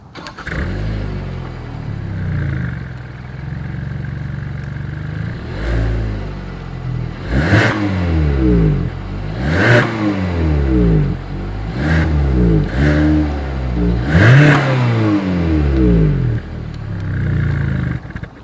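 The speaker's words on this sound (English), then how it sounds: "So as always, here is that exhaust clip." A 2020 Hyundai Tucson SUV engine idles and is revved repeatedly, each rev rising sharply then falling back, a deep exhaust note close to the microphone.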